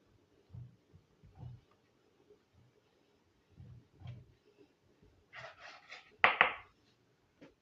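Knife trimming the crusts off two stacked bread slices, soft dull thuds and scrapes at irregular intervals, quiet and close, ending with a few sharper cuts.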